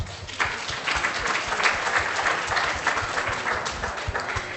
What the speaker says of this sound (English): Please give a big round of applause to them.